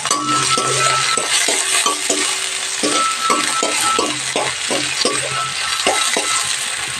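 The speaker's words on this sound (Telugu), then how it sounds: "ఇప్పుడు పోపు అవ్వగానే ఇవన్నీ ఐటమ్స్ ఆయిల్లో వేసుకుందాం" Oil crackles and sizzles in a pan as potatoes and green chillies fry, a spoon scraping and stirring in quick repeated strokes, close and fairly loud.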